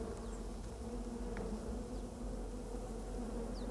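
Alkali flies swarm at Mono Lake, a salty desert lake, producing a dense, continuous buzzing drone that stays steady throughout, with a few individual flies whining past nearby.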